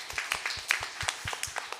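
A church congregation claps in a short, scattered round of applause at a Thanksgiving Sunday gathering, with quick, uneven hand claps.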